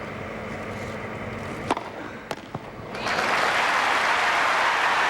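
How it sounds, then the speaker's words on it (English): Wimbledon crowd at Henman versus Llodra breaks into loud, sustained applause after a service winner, rising sharply from a murmur following a few sharp racket and ball hits. "Crowd happy to applaud that."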